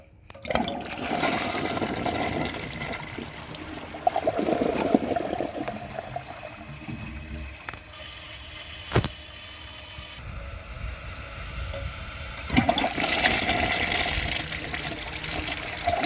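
A Mansfield Alto toilet flushes with a loud rushing surge of water, then gurgles and trickles as the tank refills, followed by a second strong flush near the end.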